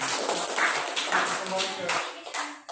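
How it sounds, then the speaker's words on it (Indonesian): A classroom group of students clapping after a presentation, light and uneven, with voices talking over the applause. "silakan kelompok 2 tepuk tangan buat kita"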